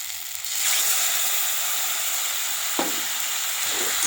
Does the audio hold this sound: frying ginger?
yes